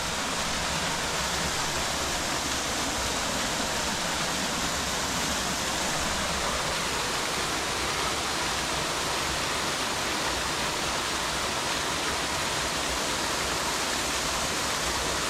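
Waterfall at the bottom of Waitui Falls in New South Wales, a steady broad rushing roar of falling water, close and constant, with no voices.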